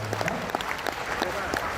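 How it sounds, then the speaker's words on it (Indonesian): Audience applause at a talk for civil servants, a lively patter of many hands clapping with a few sharper individual claps, mid-distance and steady for under two seconds, with a voice or two faintly mixed in. "Tepuk tangan untuk kita."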